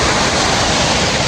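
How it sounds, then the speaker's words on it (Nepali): A waterfall in Nepal pours with a loud, steady broadband roar of rushing water that fills the scene close by, with no let-up and no voices. "अब हामी चाहिँ झरनामा आइसकेका छौँ"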